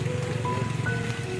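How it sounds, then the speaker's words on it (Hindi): Heavy rain pours down steadily outdoors, a dense continuous wash of water noise with no breaks, loud and close throughout the short stretch. "तेज़ बरसात शुरू हो गई है।"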